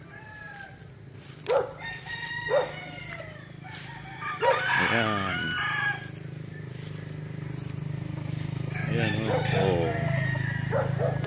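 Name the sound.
chickens and roosters crowing at a chicken farm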